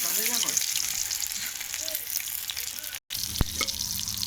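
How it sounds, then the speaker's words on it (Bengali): Prawn fritters frying one by one in hot oil, a steady close sizzle with occasional spoon taps and a brief break partway through, while a voice talks lightly underneath. "তো দেখো আমি এক এক করে এভাবে ভাজবো।"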